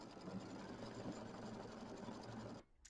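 A computerized embroidery machine stitches the placement line for an orange ring of a rainbow appliqué mini quilt, producing a steady, continuous mechanical whir and needle rattle that cuts off abruptly near the end.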